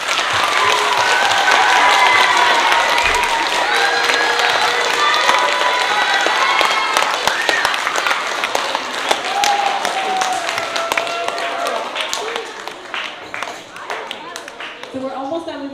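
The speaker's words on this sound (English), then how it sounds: "A round of applause for" An elementary school audience at a spelling bee gives a new champion sustained applause, with dense clapping from a crowd that holds steady and then thins toward the end.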